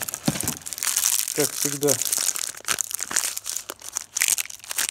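Packaging around new SKF bearings being opened, loud close crinkling and tearing of wrapping throughout, with someone speaking briefly over it.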